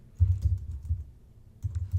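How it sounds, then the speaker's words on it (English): Search terms are being typed on a computer keyboard in soft, quick bursts of key clicks separated by a short pause, close and quiet with no speech. "the first thing I'm going to do is simply start by typing in"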